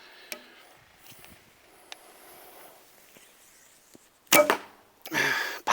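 A reflex deflex bow shoots an arrow, leaving a sharp release snap followed by a brief loud whoosh and impact, after near-quiet with faint scattered rustles.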